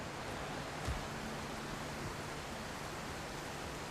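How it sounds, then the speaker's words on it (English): Water flows steadily in God of War Ragnarok, a constant broad rushing wash like a stream or small waterfall, fairly faint and even throughout with no voices. "You got the water flowing."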